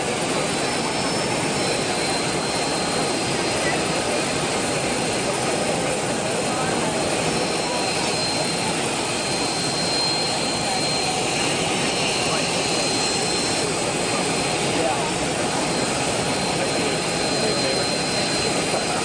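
Aircraft jet engines roar continuously and loudly at close range, a dense steady blast that fills the whole stretch without letup.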